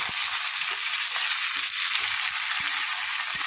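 Yardlong beans and mixed vegetables frying in a pan make a constant close sizzle, with a few soft knocks as they are stirred.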